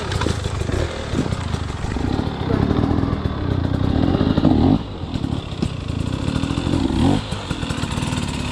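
Dirt bike engine on a hard enduro trail, running continuously with revs rising and falling as the clutch is slipped, loud and close with rough clattering throughout.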